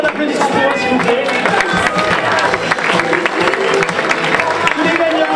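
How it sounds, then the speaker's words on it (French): Loud, dense applause from an audience at an awards ceremony as the winners of a student technology competition are called onstage, a steady wash of clapping and crowd noise lasting throughout. "tonnerre d'applaudissements pour eux"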